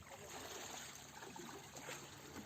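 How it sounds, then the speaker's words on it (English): Water tossed from a lifted bucket toward clay tablets, a steady broadband splashing and rushing wash that holds at an even level throughout, with no clear voices over it. "Water rushed toward the clay tablet"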